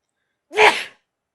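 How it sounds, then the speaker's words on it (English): A single sharp sneeze from someone whose sinuses are irritated. It rises abruptly, stays close and fairly loud for about half a second, then fades into silence. "Let's see if I remember to edit out your sneezes"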